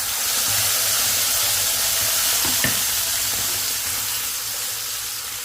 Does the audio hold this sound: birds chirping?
no